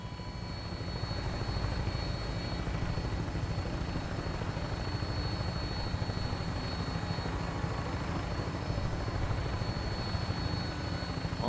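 A Fallout 4 aircraft (vertibird) on final approach to Boston Airport drones with a steady rotor and engine roar, constant and moderately loud throughout, with no talk.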